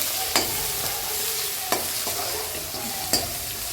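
Chopped capsicum being stirred into a street-style sandwich filling in a hot pan, a continuous sizzle broken by three or four sharp scraping strokes of the spoon, close up.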